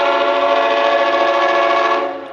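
A CT locomotive pulls a passing train, a loud, steady, tonal roar that holds constant for about two seconds before starting to fade away, with no talk over it.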